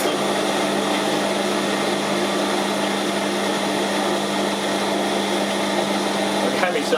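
Lathe cutting a 20 threads-per-inch thread on a Massey Ferguson MF65 tacho drive housing: a steady, loud machine hum with a constant motor drone runs throughout, with a brief scrape near the end.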